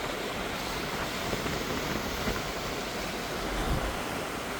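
Strong wind at sea on a trip to Sweden, a continuous loud roar and rush of air with buffeting on the microphone and the wash of waves beneath, with no voices.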